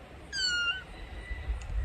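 A black cat gives one clear, high meow outdoors in a garden, a short rising-and-falling call near the start over a quiet background.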